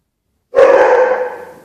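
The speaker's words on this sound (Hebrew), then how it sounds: "הכלב שלי" A single dog bark bursts out loud and close after a moment of silence, then trails off with a short ringing tail.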